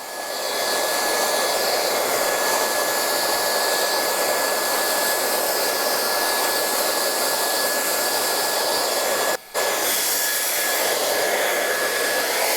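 A hair dryer blows steadily and loudly at close range while styling hair, a continuous airy roar with a thin whine, broken by one very brief cutout near the end.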